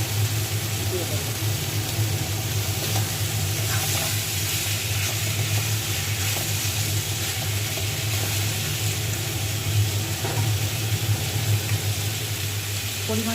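Taro stolons frying in a spice paste in a pan, giving a steady, even sizzle that holds constant throughout with a low hum underneath and no breaks.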